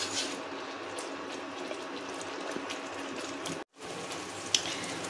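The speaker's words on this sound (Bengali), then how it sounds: "আমার মশলাটা ফুটছে।" Spice paste bubbles over a high gas flame in a pan, a steady close-up hiss and spatter with one short break and a sharp click near the end.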